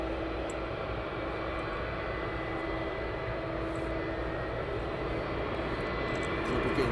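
A fixed-wing aircraft landing at East Midlands Airport makes a steady, loud engine roar that holds constant throughout and swells slightly at the end.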